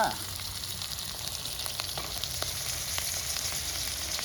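Pieces of mutton sizzle and crackle steadily in very hot oil, a dense continuous fry with scattered sharper pops throughout.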